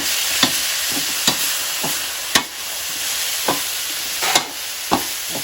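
Sea bass being stir-fried with chili and salt and fish sauce, a constant close sizzle in the pan punctuated by about seven sharp spatula scrapes and knocks at uneven intervals, no voices.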